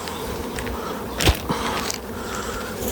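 Honey bees drone in a steady buzz around an open hive while a keeper transfers a colony from a six-frame box to a twelve-frame hive, with a brief knock of handling in the middle.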